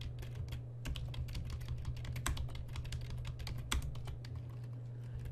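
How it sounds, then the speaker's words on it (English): Rapid, continuous tapping on a computer keyboard while entering commands in a Dwarf Fortress game: dense, fast clicks at moderate level over a steady low background hum, with no talking. "Which involves a lot of tapping the keyboard quickly so I get through it."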